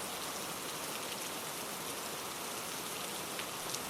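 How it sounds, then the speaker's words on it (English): A heavy rain downpour, heard as a steady, dense hiss of rain pouring on surfaces, continuous and unbroken with no talking. "Are we just going to stand here in the downpour gaping at it?"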